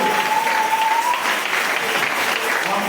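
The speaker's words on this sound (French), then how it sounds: "Applaudissez pour les frères là." A church congregation in Brazzaville applauds during a sermon, giving steady, dense clapping from a large crowd that fills the whole stretch evenly and loudly, with a faint voice sustained over it.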